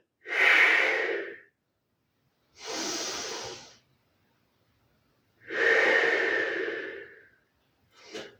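Slow, deep breaths during a Pilates strength exercise, close and clear: three long breathy cycles of airy inhales and exhales separated by quiet pauses, with a fourth beginning at the end.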